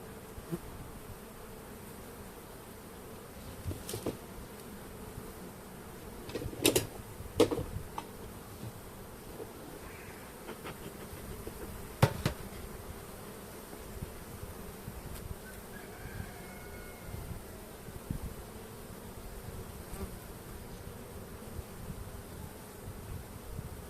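Honeybees hum at an open hive during a spring brood check, a steady low drone that stays fairly quiet, broken by a few sharp clicks and knocks from frames being handled; no one speaks.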